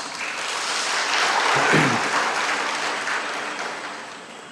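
An audience at a college orientation for first-year engineering students applauds in a soft, diffuse wash that swells toward the middle and gradually fades, heard from a distance.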